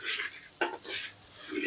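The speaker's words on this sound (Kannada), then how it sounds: "ಮತ್ತೆ ಸೋಯಾಬೀನ್ ಹಾಕಿ ಹೀಗೆ ಫ್ರೈ ಮಾಡ್ತಾ ಇದ್ದಾರೆ" Soybeans frying with onion and tomato in oil in a pot: soft, quiet stirring and scraping with a light sizzle and one clink of a spoon against the pot.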